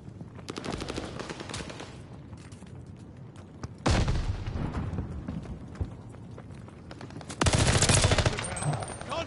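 Call of Duty Vanguard gunfire at a contested hardpoint in ranked play: rapid automatic bursts rattle throughout, with two loud, close volleys standing out and game chatter in the background.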